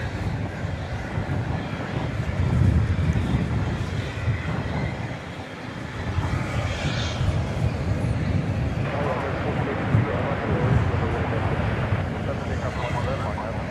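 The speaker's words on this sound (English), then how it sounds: "The winds are out of the south-southeast at 20 miles an hour" A south-southeast wind of about 20 miles an hour gusts at DFW Airport, buffeting the microphone with a steady broadband rush and rumble, while a person talks over it.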